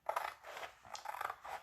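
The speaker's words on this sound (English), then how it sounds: "I just got these new transfer scissors in" New transfer scissors cut through a large transfer sheet in four or five quick, close crisp snips with short pauses between them, and no voices.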